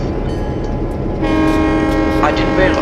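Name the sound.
Union Pacific train with EMD F7 locomotives running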